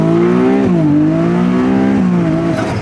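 A Ferrari 296 GTS pulls away in wet mode with traction control limiting it, a loud close engine note rising in pitch, dipping briefly at a gear change and climbing again, with no talk over it.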